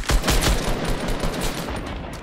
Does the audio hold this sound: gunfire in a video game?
yes